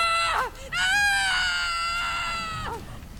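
A creature in Guild Wars 2 lets out a loud, shrill, sustained scream lasting a couple of seconds, with a short yelp before it and a falling cry after, close and prominent with no talk.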